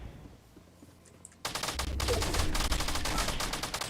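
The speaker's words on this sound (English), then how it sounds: "we have gunfire, we have gunfire." Rapid bursts of automatic gunfire in a video game erupt suddenly after a quiet start and continue as a dense, rattling volley.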